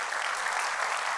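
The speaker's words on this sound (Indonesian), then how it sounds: "Tepuk tangan Tuhan Yesus" A church congregation applauds during a sermon, a brief dense burst of clapping filling the room for about a second.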